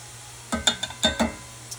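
Canned chopped green chilies tipped onto sizzling onion in a pan produce a few quick splashy hits and clinks, each followed by a short hiss, over a quiet background.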